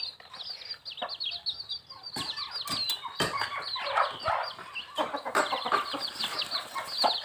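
Young chicks cluck and cheep continuously at close range, with bursts of wing flapping and scuffling scattered through, and no talking.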